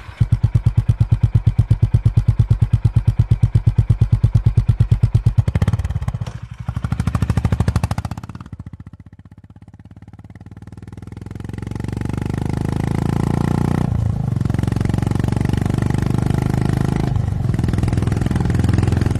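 A Honda H'ness CB350 motorcycle engine runs loud and close with a steady thumping beat, revs up in a throaty roar, dips briefly, then settles into a sustained heavy rumble.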